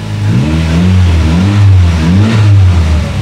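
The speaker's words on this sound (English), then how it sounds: "It's a 2-litre turbocharged engine." The turbocharged 2-litre Honda Type R engine of an Ariel Atom 4 revs in repeated rising and falling blips, loud and close, with no talking over it.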